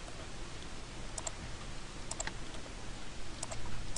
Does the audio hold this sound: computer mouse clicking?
yes